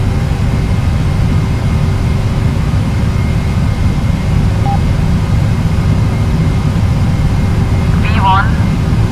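Jet engines of a PMDG Boeing 737-800 at takeoff thrust in Flight Simulator X, a steady loud low roar and hum that persists throughout, with cockpit callouts and voices over it.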